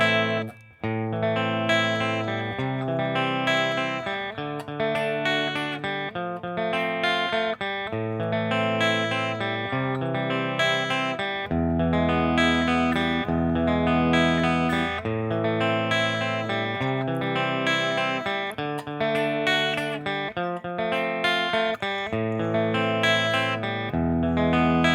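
Guitar plays the House of the Rising Sun chord progression with a steady arpeggiated picking pattern, each chord ringing clearly and evenly in a continuous, moderately loud flow with no talking.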